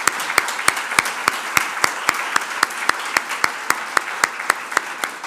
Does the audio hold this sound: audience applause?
yes